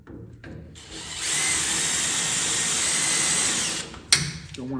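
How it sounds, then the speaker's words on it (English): A power drill whirs steadily for about three seconds, drilling near fiberglass on a split-window car body, starting and stopping with brief clicks and handling noises on either side. "Drill that one out a little bit more."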